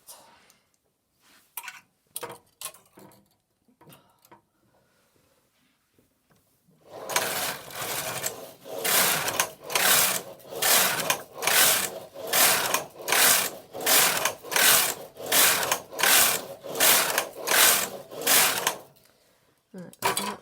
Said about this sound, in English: I'll just carry on knitting straight up